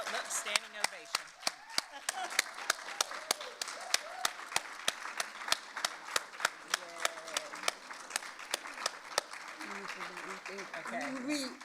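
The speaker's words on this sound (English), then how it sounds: "I think we need a giant round of applause." An audience at a conference event gives a standing ovation, a steady wash of clapping punctuated by sharp nearby claps, with voices talking over it throughout.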